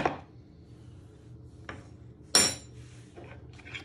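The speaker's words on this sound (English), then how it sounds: "Tap it off your spoon." A spoon taps a few times against the rim of a bowl to shake off a teaspoon of cornstarch while Chinese chicken lettuce rolls are being made, giving short, close, clinking knocks separated by pauses.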